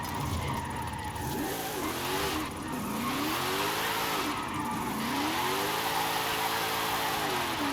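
A car engine in Forza Horizon 5 revs continuously with rising and falling pitch sweeps while drifting on a loose tune, tyre squeal mixed in, loud and steady throughout.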